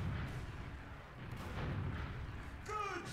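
Heavy gunfire booms from a shooter video game, a dense low rumble of shots lasting a few seconds, with a brief voice near the end.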